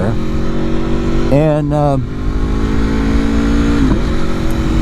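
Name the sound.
Aprilia motorcycle engine revving on throttle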